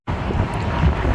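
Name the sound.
wind blowing on microphone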